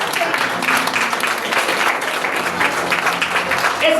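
A church congregation applauding during a sermon, loud continuous clapping filling the room with faint voices mixed in.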